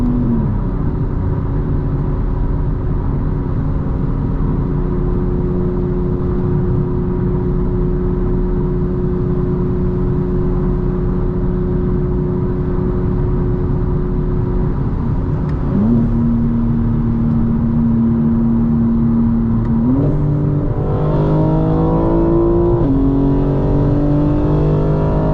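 A 2025 BMW M4 Competition xDrive revving while driving, heard from inside the cabin: a loud, steady engine drone holding pitch, then dipping and climbing through shifts with rising revs near the end, no talk.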